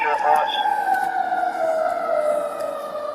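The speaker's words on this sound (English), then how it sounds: "Hey, you hear the sirens, right?" Police and emergency sirens wail continuously with a slowly falling pitch, steady and fairly loud throughout, with faint background noise underneath.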